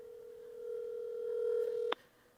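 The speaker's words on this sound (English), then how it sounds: "Let's see if it's going to ring." A telephone line gives a steady, faint tone for about two seconds that cuts off with a short click, no ringing clearly following.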